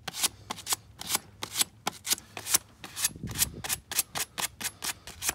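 Sandpaper rubbed back and forth over a corroded copper battery terminal on a Dodge Caravan, a close, rhythmic series of about twenty quick scratchy strokes.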